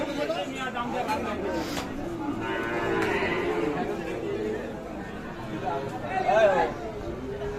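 Cattle moo loudly at a morning cattle market in Ambari, where Sahiwal bulls and calves are traded. The long, drawn-out calls rise over steady human chatter and talking nearby.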